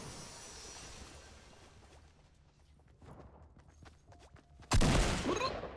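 Sniper gunfire in a battle royale video game: a single sharp, loud shot bursts out near the end after a stretch of quiet ambient game noise and faint footsteps.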